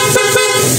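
A single stock horn honk from a Honda ADV160 scooter, steady and fairly loud, held through almost a second with a slight waver, sounding close by.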